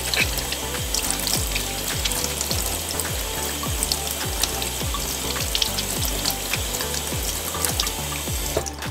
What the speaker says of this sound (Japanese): 表面にクリーナーが残らないようにしっかりと洗い流します。